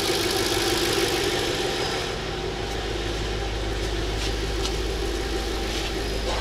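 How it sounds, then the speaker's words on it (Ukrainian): An Audi S6 C5 4.2 V8 idles steadily and fairly loud, fuel injectors ticking lightly and rapidly over the low rumble, no voices. "Чути тільки форсунки."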